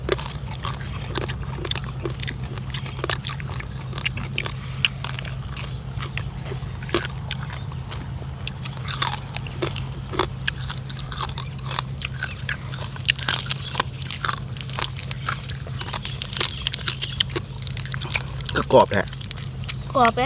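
Crunchy bites of crispy pork belly eaten with a spicy cucumber salad outdoors beside rice fields at dusk, giving repeated close, crisp crackles and chewing over steady low background hum.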